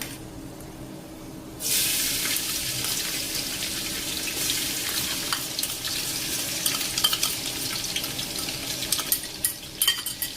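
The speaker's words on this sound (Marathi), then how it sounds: "गार्लिकला छान 1 मिनिटभर या तेलामध्ये फ्राय करून घ्यायचंय" Chopped garlic hits hot oil with a sudden loud sizzle after a quiet opening, then fries steadily in a big pan of oil with light stirring clatter and crackle throughout; cooking for a large-batch white sauce pasta.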